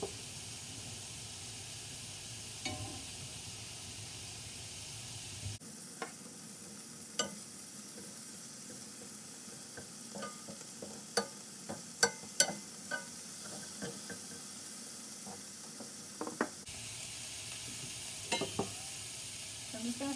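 Marinated chicken pieces searing in a hot pan give a steady close sizzle, with scattered clinks and scrapes of stirring rising above it midway, no voices.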